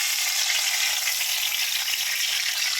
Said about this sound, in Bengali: ঘিয়ের মধ্যে তেজপাতাটা দিয়ে দেবো।